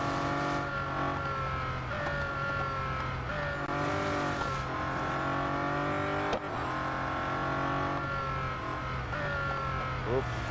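A Bugatti Centodieci races in the mobile game Real Racing 3, its engine droning steadily with rising and falling revs through gear changes and brief tire squeals, loud and continuous.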